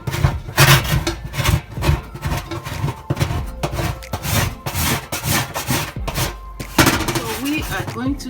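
A plastic scraper works residue off a stove top in quick, uneven strokes, close and fairly loud scratching bursts with short pauses between passes.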